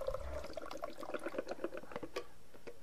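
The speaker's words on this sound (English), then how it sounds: "what we need to do is dump our developer either down the drain with some water or into a container" Used black-and-white film developer pours out of a container down a drain, a gurgling, splashing stream with irregular glugs, close and fairly quiet.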